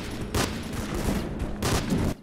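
Friendly machine-gun fire in a combat video game during urban fighting: two loud bursts of rapid shots ring out close by, separated by a rumbling, echoing gap.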